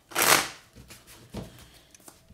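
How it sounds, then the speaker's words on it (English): Tarot cards being shuffled, one loud riffling burst early on followed by a softer second shuffle and a few light card taps, close up and quiet apart from them. "Let's get three more shuffles and more energy."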